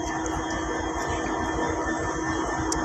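Titumir Express passenger train running between Chilahati and Saidpur, a steady loud rumble of wheels on rails with rhythmic clacking and a continuous high hiss, heard from on board without pause.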